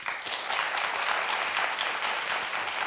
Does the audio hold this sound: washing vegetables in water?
no